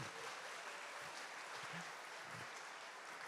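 A church congregation applauding during Mass, with steady, dense clapping from a large crowd that holds at an even level throughout.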